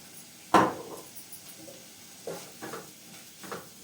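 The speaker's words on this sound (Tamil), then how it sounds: "எண்ணெய் உருகி வந்ததும் வெங்காயத்தை போடுவோம்" Onions dropped into hot oil give one loud sudden hiss, and a few softer stirring scrapes and sizzles follow in a quiet pan; no talking.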